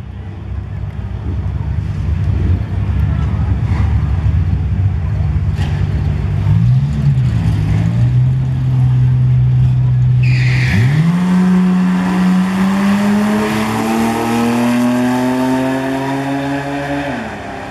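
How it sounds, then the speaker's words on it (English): Drag race between an old four-cylinder Chevrolet Vega and a 2001 Ford Mustang: a loud, steady engine drone that jumps into a rising, high-revving wail as the cars launch and accelerate down the strip, close and sustained. "Holmes out of Hebron, old four-cylinder Vega at a 1277"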